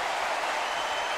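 A basketball arena crowd roars in a dense, sustained wash of cheering after Marshall Plumlee's emphatic dunk for Duke against Virginia Tech, loud and continuous throughout.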